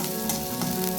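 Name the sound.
onions and dried chilli frying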